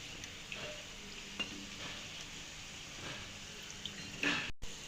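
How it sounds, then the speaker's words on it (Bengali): Flour-based sweets fry in hot oil over a lowered flame, giving a faint, steady sizzle with a few soft clicks as pieces are turned, then a brief louder clatter near the end. "তো মিষ্টিগুলো যখন আমি এবার তেলের মধ্যে দিয়েছি, তখন কিন্তু এবার চুলোর ফ্লেমটা আমি লোয়ে করে দিয়ে মিষ্টিগুলো খুব সুন্দরভাবে ভেজে নেব।"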